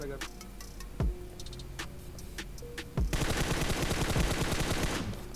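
Gunfire in PUBG Mobile: a few isolated sharp shots, then a sustained rapid burst of automatic fire, loud and close, over faint game background ambience.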